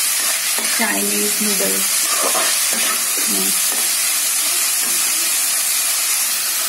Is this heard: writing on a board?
no